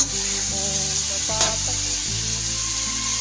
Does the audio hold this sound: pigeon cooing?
no